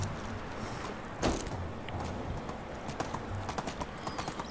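Horse hooves clip-clop at a steady trot in the video game Medieval Dynasty, with a brisk, even rhythm of moderately loud thuds and a sharper knock near the start.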